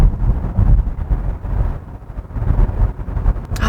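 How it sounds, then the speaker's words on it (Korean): The engine of a 2025 Kia Sportage Hybrid starts up and holds steady inside the car, taking over from the electric motor, a low muffled drone with some wind and road noise. "여기서 엔진 개입해 볼게요."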